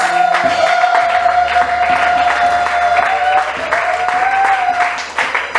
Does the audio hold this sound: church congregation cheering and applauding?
yes